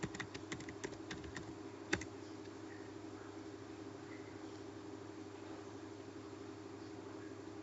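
A computer keyboard is tapped in a short flurry of crisp keystrokes, ending with one sharper click, then quiet room hum with faint distant voices; close but soft.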